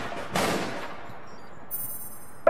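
Gunfire in the APB Reloaded video game: a single burst of shots near the start, then quieter game ambience and a sharp sound at the very end.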